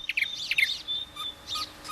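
A wheatear nesting inside a hole in porous granite rock gives short, bright chirps and twittering calls in quick bursts, fairly close and clear against a quiet background, with no voices.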